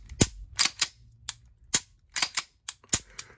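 A Tisas Zigana FC pistol being reassembled gives a string of sharp metallic clicks and clacks, about ten in irregular bursts, close and crisp with quiet gaps between.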